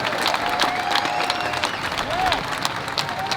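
A rally crowd gathered for voting rights in Texas applauds in a dense, steady wash of clapping, with cheers and a few rising whoops over it.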